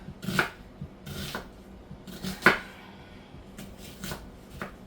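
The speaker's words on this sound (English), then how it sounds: "And we cut that in half" A knife slicing through food on a cutting board in a home kitchen, giving four or five separate crisp cuts spaced about a second apart, close and quiet, with no talk.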